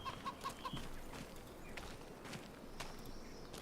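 Chickens in Farming Simulator 25 cluck in a short burst of four evenly spaced calls near the start, followed by game ambience with footsteps.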